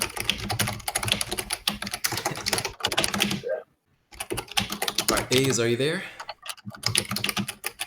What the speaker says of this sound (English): I assume by the sounds of your keyboard that you're ready for us to begin